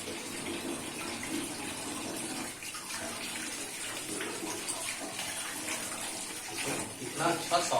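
Beef trotters are washed under a running tap, with a steady close gush and splashing of water throughout as they are rinsed and handled, the flow getting louder toward the end.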